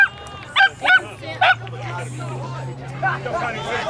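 A dog barks sharply a few times on the sidelines of a high school boys' varsity soccer game, loud bursts over a steady murmur of crowd chatter and a low hum.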